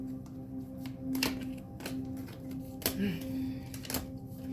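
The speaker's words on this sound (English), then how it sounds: "I'm gonna shuffle these again" Tarot cards being shuffled by hand, giving a series of soft, irregular riffling clicks and slaps over a steady low background hum, close and moderately quiet.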